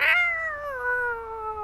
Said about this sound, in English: that didn't hurt the cat. I know it likes to make noise like that